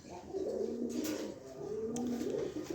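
A pair of top-quality Afghan grizzle pigeons coo in low, rolling phrases, close and fairly soft, repeating twice with a few faint clicks in the background.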